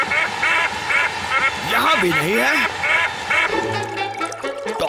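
Cartoon ducks from Oggy and the Cockroaches quack in a rapid, rhythmic series, loud and close, with someone speaking in Hindi over them and a warbling cartoon effect in the middle.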